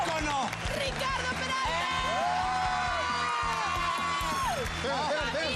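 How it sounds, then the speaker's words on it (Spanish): Studio audience applause and cheering for a celebrity guest on a Spanish-language talk show, a constant loud crowd roar with whoops, heard under music and an enthusiastic host voice throughout. "¡Fuerte el aplauso!"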